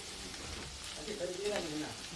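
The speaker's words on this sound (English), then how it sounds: "And then I have to fry it." Samosas frying in hot oil in a home kitchen, a steady close crackling sizzle that swells slightly toward the middle and carries a few faint voices underneath.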